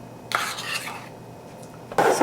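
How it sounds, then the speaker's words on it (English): A cup of Crisco shortening scraped into a mixing bowl, heard as two close bursts of soft rubbing and scraping from utensil and bowl with a quieter pause between them and no speech. "add 1 cup of Crisco. So I already have the cup ready, so I'm going to add it to this bowl here."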